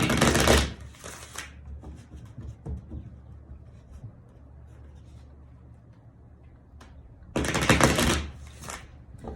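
Tarot cards are shuffled in two quick papery bursts, one at the start and one near the end, with a quiet stretch of faint handling between them.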